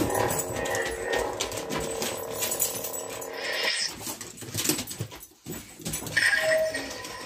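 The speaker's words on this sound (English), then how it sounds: "Dogs are barking." Dog barking sound effects play from an LGT Xenopixel Neopixel lightsaber core as several short, close barks and whimpers, with a brief gap between bursts.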